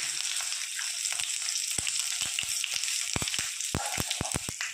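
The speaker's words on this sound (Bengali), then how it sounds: "তেল গরম হয়ে গেছে, ফোড়নে দিয়ে দেবো আমি তেজপাতা, দুটো লঙ্কা, লাল লঙ্কা আর গোটা জিরে" Bay leaf, dried red chillies and whole cumin sizzling in hot oil, with a steady close hiss broken by sharp irregular crackles and pops that grow denser toward the end.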